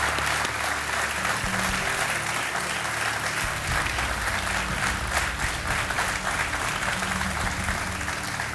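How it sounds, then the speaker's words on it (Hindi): Studio audience applause on the Hindi-language TV quiz show Kaun Banega Crorepati, steady and dense clapping filling the whole stretch without a break, with no speech over it. "तालियों के साथ आपका स्वागत है।"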